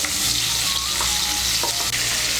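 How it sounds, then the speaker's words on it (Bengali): Jackfruit pieces frying in hot oil, a loud dense crackling sizzle filling the space up close, with a couple of brief stirring knocks and no voices. "তুলে নিয়ে এই তেলের মধ্যে আমি এঁচোড়টাকে একটু ভেজে নেব।"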